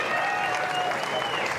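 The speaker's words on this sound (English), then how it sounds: "Getting loud applause from the Canberra crowd." A Canberra crowd at an A-League women's football match between Canberra United and Western Sydney Wanderers gives steady, loud applause for a substituted player, a continuous wash of clapping with a commentator's voice faintly beneath.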